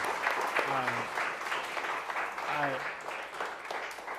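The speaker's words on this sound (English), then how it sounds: "Can y'all join me in giving Dr. Stephen Owens a big round of applause?" Audience applause at a leadership breakfast honoring Dr. Stephen Owens, a steady wash of clapping with voices speaking over it.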